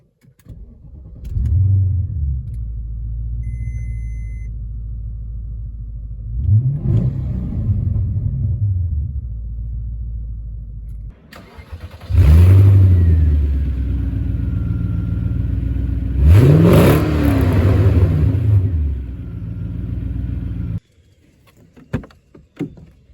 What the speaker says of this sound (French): démarrage du V8.